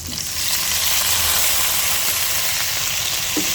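Tomatoes go into a pan of frying milkfish and set off a loud, steady hissing sizzle that begins abruptly and holds at an even level, with a faint clink near the end.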